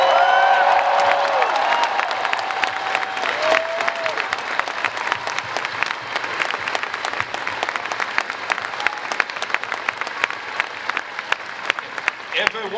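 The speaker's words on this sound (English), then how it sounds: "can we get a big applause for my mentor" Audience applause at a Star Wars Celebration panel, a large crowd clapping loudly and continuously with a few cheers and whoops, fading slightly toward the end.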